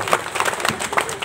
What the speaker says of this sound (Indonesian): Tepuk tangan dulu untuk SMK Cinta Rakyat.